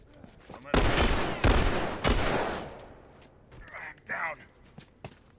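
Gunfire in The Last of Us multiplayer on the Coal Mine map: three loud, dense bursts of shots in quick succession, then quieter scattered pops and footsteps, with players talking over the action.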